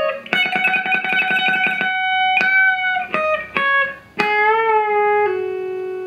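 A clean electric guitar plays a solo lick, a quick run of picked notes followed by a bent note that rises and a pull-off, loud and close with no speech.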